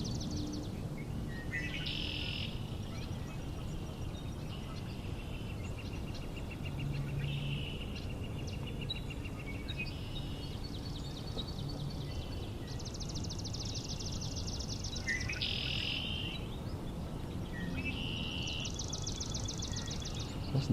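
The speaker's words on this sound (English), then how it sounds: "Listen to those swamp sparrows." Several swamp sparrows sing in a marsh, their trilled songs repeating every few seconds at moderate distance, set against a steady low background hum.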